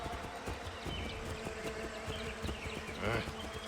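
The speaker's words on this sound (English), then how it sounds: "To say nothing of the mosquitoes." Mosquitoes buzzing in a humid swamp in Assassin's Creed III, a continuous insect whine over a low ambient bed with faint hoof-like clopping, and no talk.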